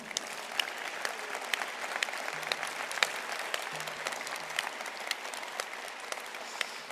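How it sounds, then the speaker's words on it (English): A crowd applauds at a college graduation ceremony, dense clapping from many hands that carries on evenly at moderate loudness, with a faint voice or tone briefly in the background. "You may applause."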